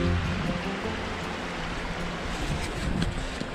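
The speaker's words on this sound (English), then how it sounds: "spring water feeding to the reservoir" Spring water streams into a trout reservoir with a continuous close-up rushing and burbling, steady and moderately loud, with some wind buffeting the microphone.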